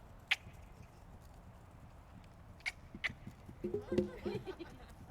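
Scattered hoof clops from a horse moving nearby under a rider, irregular and moderately loud, with some faint voices or noise in the background.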